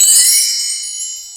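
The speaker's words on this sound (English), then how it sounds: "we have wind chimes again." A wind-chime sample plays on a MIDI beat machine. A single bright, shimmering cluster of high metallic tones strikes at once and rings out, slowly decaying on its own.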